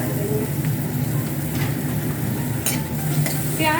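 Onions for dal fry sizzle steadily in an oiled pan while a spoon stirs them, scraping now and then against the metal, close and continuous.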